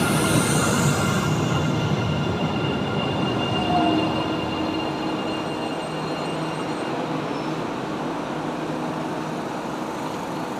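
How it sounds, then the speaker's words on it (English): An electric local train in Penang, Malaysia rolls along steadily with a continuous rumble and faint high-pitched wheel squeals, sustained and fairly close throughout. "This is local train, electric train from Simpampa to Petrovac."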